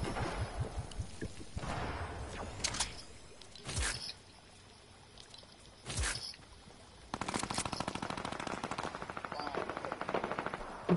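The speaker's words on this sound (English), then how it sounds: "Who's shooting me?" Video game gunfire crackles in short bursts, with sharp isolated shots and a long rapid machine-gun stream near the end, fairly faint in the mix.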